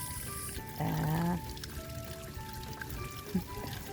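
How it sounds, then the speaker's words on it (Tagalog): Water trickling and dripping down a small waterfall, a faint, steady splashing patter with a brief louder pouring gush near the start and scattered drips, heard close up with no speech. "Gapatak ang tubig ng falls."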